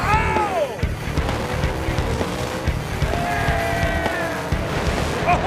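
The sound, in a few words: Top Fuel dragsters racing down the drag strip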